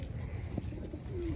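Pigeons newly settling into a loft coo softly in a low, muffled murmur against steady background noise, with one faint brief call standing out near the middle.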